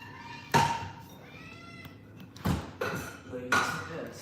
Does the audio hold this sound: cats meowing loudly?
yes